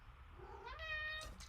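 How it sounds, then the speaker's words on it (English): An indoor house cat gives a single rising meow, fairly close and quiet against a soft room background with no talk. "you came in here to meow at me"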